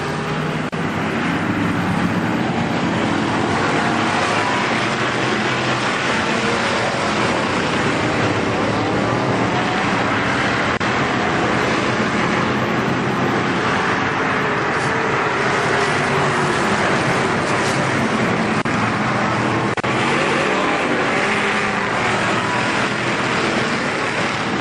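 Pro stock race cars roar around Kil-Kare Speedway in a heat race, a dense continuous wall of engine noise with layered passing cars, loud and sustained throughout.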